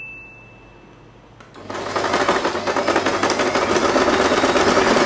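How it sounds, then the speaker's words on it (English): A sewing machine stitches the seam of a padded fabric headband, whirring up from near silence into a steady, loud, close mechanical hum that runs without pause. "we are going to sew this part"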